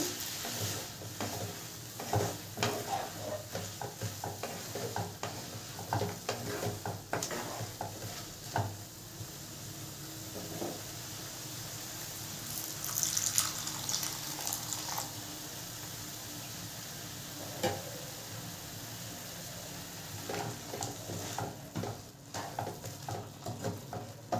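Carrot halwa being stirred in a pan as warm milk is added a little at a time, with steady scraping and soft sizzling, irregular bursts of stirring over a continuous low simmer, close and moderately loud.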